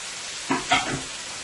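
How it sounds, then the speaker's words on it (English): Potatoes going into a pan with karela and shrimp for a Guyanese-style fry, giving a couple of quick stirring scrapes and a soft sizzle over a steady hiss. "So now I will be adding my potatoes"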